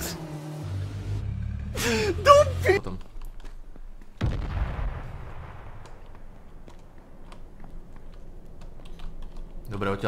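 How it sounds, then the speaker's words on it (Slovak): Video game gunfire cracks once with a sharp report and a fading tail, preceded by rapid keyboard typing and a gasp, with a quiet background after. "Niekto tu strieľa."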